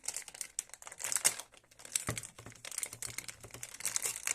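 A plastic package holding swim goggles is crinkled and torn open up close, with dense irregular rustling and crackling throughout and one sharper snap midway.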